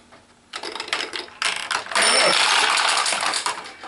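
Steel balls clatter one at a time through the mechanism of a Toyomaru pachinko machine, a dense metallic rattling that starts sparse, then builds into a loud continuous clinking cascade.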